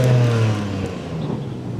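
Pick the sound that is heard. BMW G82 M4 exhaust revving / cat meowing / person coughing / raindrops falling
BMW G82 M4 exhaust revving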